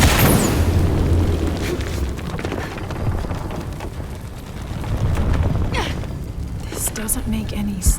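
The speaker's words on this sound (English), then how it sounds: "Exploding that gas might move the pendulum." Gas explosion in the video game Shadow of the Tomb Raider, a loud booming blast up front followed by rumbling, crackling debris and a second swell of roaring noise that fades toward the end.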